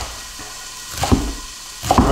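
A knife chops kale on a cutting board in two short, crisp bursts roughly a second apart, close by and alone.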